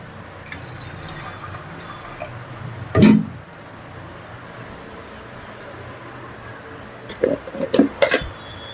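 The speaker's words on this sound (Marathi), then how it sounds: "आता आपण याच्यात थोडं पाणी घालूया." Water is poured into a pot of dried peas being cooked for ragda, heard as a short splashing pour followed later by a cluster of brief trickles and drips, close and fairly quiet between them.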